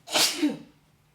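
A single sharp sneeze, a quick breathy burst followed by a short voiced tail, close and fairly loud, with no talking.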